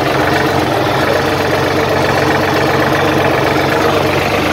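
A heavily loaded tractor engine runs steadily at close range, a loud continuous rumbling drone with knocking vibration and no voices.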